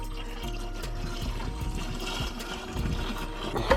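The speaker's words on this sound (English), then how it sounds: "you're gonna pour water into here and make sure it is in fact leaking" Water poured into the windshield washer fluid reservoir of a Chevrolet Silverado, a steady close trickle and splash of liquid filling a plastic tank, continuous with no talking.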